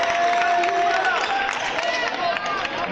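Crowd noise from a Baptist University Florida basketball game against Southeastern Illinois College, a steady loud wash of murmuring voices with light clapping and shoe squeaks throughout.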